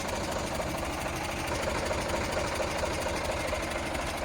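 An Eicher 485 tractor engine runs at a steady idle with the PTO engaged, a close, constant mechanical chugging and rumble with no breaks.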